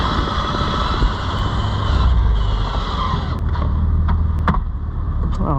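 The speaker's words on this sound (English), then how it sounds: "Give it a little gas. Don't want it to shut off on me" A 2003 Mitsubishi Eclipse GTS Spyder with a manual 3.0L V6 idles with a steady, close engine drone and a slight swell in revs partway through, carrying on throughout with no talking.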